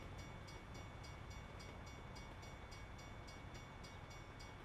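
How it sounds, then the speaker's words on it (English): A freight train made up entirely of boxcars rolls past close by, a loud, steady roar of wheels on rail with faint, regular clicks repeating throughout. "Wait, that train was all boxcars?"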